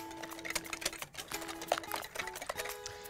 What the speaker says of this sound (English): Give that a nice whisk.